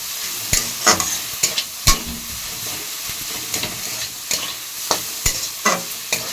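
Ponnanganni greens and grated coconut stirred in a pan, with a low sizzle broken by sharp, irregular spatula scrapes and taps against the pan, close and unaccompanied by voices.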